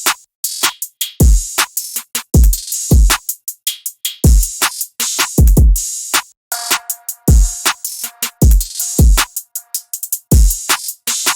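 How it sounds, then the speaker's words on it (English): Hard-hitting subway kick drum from the Imperium kit thumps in a dark trap beat, heavy booming kicks landing in a steady, syncopated pattern under crisp hi-hats and a melodic layer, loud and upfront. "I added the kick and I used the subway kick still from the drum kit Imperium."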